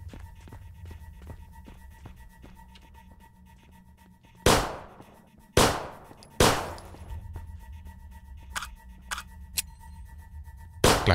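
Several sharp gunshots crack out in quick succession inside a zombie video game set aboard a train, a few loud bursts followed by lighter scattered shots over a steady low mechanical rumble.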